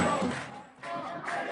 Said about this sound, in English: Protesters chanted slogans calling for the downfall of the regime